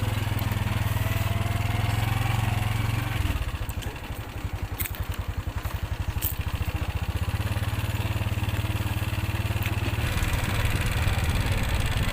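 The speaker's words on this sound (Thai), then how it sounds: "ตอนนี้กะน้ำดากรถไถเนาะกำลังเสี่ยวเข่าขึ้นบ้านค่ะ" A two-wheel walk-behind farm tractor engine runs steadily and loudly close by while hauling harvested rice home, its rapid single-cylinder chugging shifting pitch partway through and then settling back into a steady drone.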